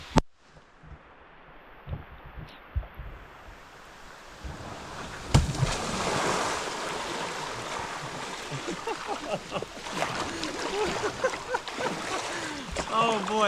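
Whitewater kayak seal launch: a quiet start with faint movement, then a sudden splash as the boat drops into the river, followed by loud continuous rushing water and turbulent spray.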